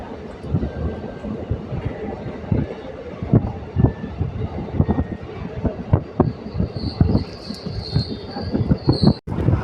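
The Guntakal passenger train from Kacheguda rumbles along the rails with rhythmic wheel clacks and a rising metallic squeal near the end, heard close up from on board.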